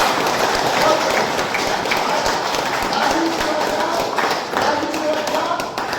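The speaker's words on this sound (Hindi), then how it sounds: "एक बार अपने आप ताली बजा दीजिए" An audience claps steadily throughout at a public talk in India, a fairly loud, continuous wash of hands with faint voices mixed in.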